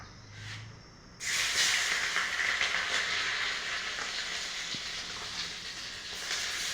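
Chopped garlic dropped into hot oil and butter in a pan, bursting into a loud, steady sizzle after a brief quiet moment and hissing on continuously.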